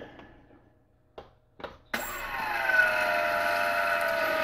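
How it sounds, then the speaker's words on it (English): Brushless motors on a Syma X8 drone start after a few faint clicks and spin up into a steady, rising whine with a bright tonal hum that holds loud and close to the end. "four motors spinning up now"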